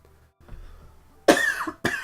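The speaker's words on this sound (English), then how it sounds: "you'll have to bear with me if there's some coughing" A person with a lingering winter cold and a dry throat lets out a couple of close, harsh coughs after a moment of quiet, the second one shorter than the first.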